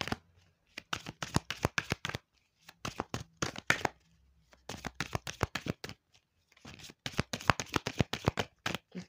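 Tarot de Marseille cards being shuffled by hand close up, in rapid bursts of crisp riffling clicks separated by short pauses, loud and dry with no talking.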